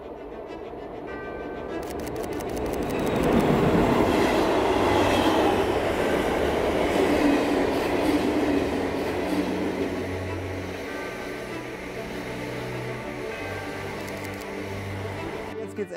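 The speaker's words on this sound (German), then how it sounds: "jetzt kommt der Zug von vorne" A train approaches on the railway line at St. Jodok, a low rumble swelling to a loud, steady roar of rolling wheels, then easing back into a continuing mechanical drone.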